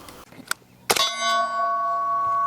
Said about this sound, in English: That steel's way louder than the gunshot.